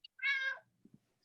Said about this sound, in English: Look at that beautiful tiger of a cat.